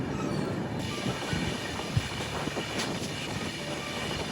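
A train rumbles along the tracks at a steady, moderate distance, with faint rattling and a low continuous roar.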